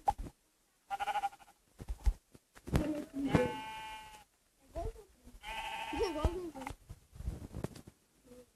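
Sheep bleat several times with wavering, nasal cries, close by, while people talk between and over the calls.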